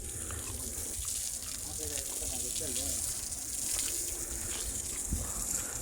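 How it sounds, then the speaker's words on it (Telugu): Water hissing steadily as it is sprayed over concrete bricks at a brick factory, a continuous broadband wash with a faint burble, and someone talking over it. "వీళ్ళు లైవ్లో నీటిని తడుపుతారు"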